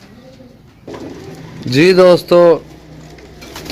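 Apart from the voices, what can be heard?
pigeons cooing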